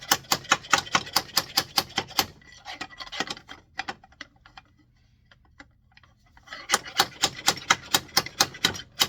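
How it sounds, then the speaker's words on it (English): Rapid, evenly spaced metallic hammer strikes ring out as bearings are pounded out of a 1962 Sprunger Brothers wood lathe, pause for a few seconds with scattered light taps, then resume in a steady series. "now we got to pound out these bearings"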